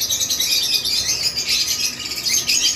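Pale fallow opaline birds in an aviary squawk and chirp continuously, a dense, loud chorus of overlapping high calls with no break.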